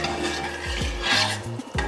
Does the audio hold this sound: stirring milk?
yes